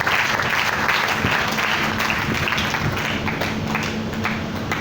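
A church congregation clapping hard in a sustained, dense burst of applause, loud and close, with a few sharper individual claps standing out from the mass.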